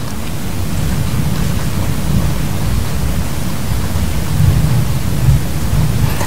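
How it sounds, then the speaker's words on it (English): Steady rain falling outside a window in Calgary, Alberta, a dense continuous hiss with a low rumble underneath, even and unbroken from start to finish with no voices. "Can you hear the rain and stuff outside my window?"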